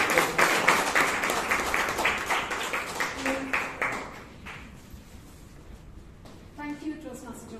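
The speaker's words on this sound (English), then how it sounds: "Let us give a big round of applause" Applause from a Toastmasters club audience at a Bangalore meeting, dense clapping at first that thins and fades out midway, followed by quieter room sound with a brief voice near the end.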